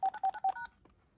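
Touch-tone phone keypad dialing a voicemail access number: three crisp DTMF beeps in a quick even rhythm, then two shorter overlapping tones trailing off into near silence, close and clear.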